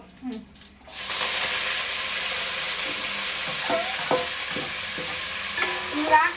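Mushroom biryani with cut mint and coriander being stirred in a pot, a steady hiss of sizzling under repeated scraping strokes of a spoon, close and continuous after a brief quiet start.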